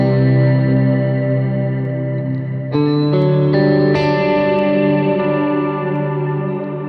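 Sustained chords wash through a huge ambient reverb preset on a Black Hole reverb pedal, with new notes at about 2.7 and 4 seconds blooming into a long shimmering, modulated tail that never decays.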